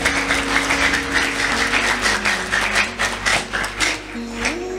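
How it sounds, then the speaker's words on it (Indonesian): A crowd at a religious study gathering claps in a sustained, dense burst, with a droning tone and some voices running underneath. "Tepuk tangan semuanya."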